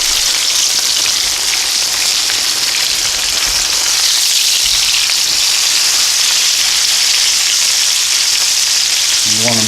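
Two chicken cutlets frying in a pan for chicken marsala, a loud, dense, continuous sizzle close by that holds steady throughout with a brief clank near the end.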